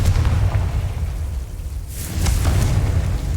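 A Confringo blasting spell explodes in the Hogwarts Legacy video game, a deep rumbling boom that swells, dips briefly and surges again with crackling bursts, loud and close.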